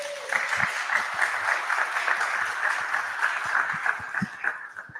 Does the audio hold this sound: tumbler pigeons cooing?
no